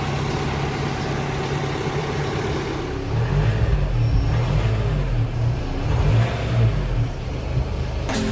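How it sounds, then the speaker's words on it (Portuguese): A Jeep Renegade diesel engine idles with a deep rumble and then revs, the low throaty roar swelling and falling in waves before dropping away at the end. "esse ronco do motor diesel é sensacional"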